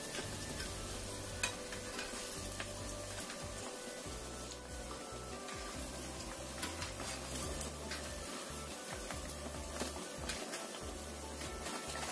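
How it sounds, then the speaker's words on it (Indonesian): Snacks deep-frying in hot oil give a steady, dense sizzle with scattered small crackles and pops, close and continuous throughout with no voices. "kemudian kita goreng yang berikutnya"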